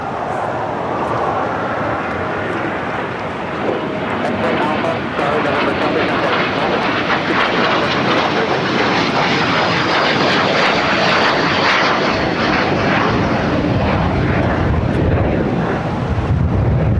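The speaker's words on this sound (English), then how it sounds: "China Eastern, the 777-300ER heading back to Shanghai." A China Eastern Boeing 777-300ER at Los Angeles International Airport (LAX) sends out a loud, sustained jet engine roar with wind buffeting the microphone, and someone talks over it throughout.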